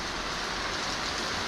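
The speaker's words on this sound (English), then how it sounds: "we're getting a bit of rain this morning" Light morning rain falls in a steady, even hiss of fine patter, quiet and continuous with no voices.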